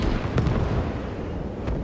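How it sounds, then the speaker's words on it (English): Explosions from an artillery barrage of roughly 105 mm cannon fire in the Gates of Hell war game, with two distinct booms at uneven intervals rising over steady, low battle rumble. "So it's going to barrage this entire zone with artillery."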